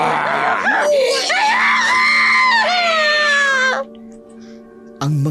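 A woman lets out long, shrill, wavering screams of terror that fill the first few seconds, close and loud, then break off into near silence before another brief sound at the end.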